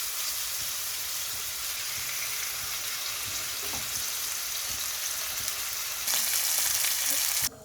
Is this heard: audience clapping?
no